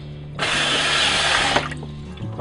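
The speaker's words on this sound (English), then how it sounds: "I'm going to go ahead and strain these out, get rid of all that water." Water poured off rehydrated freeze-dried vegetables through a strainer, a loud steady splashing rush for just over a second that stops abruptly, leaving faint dripping.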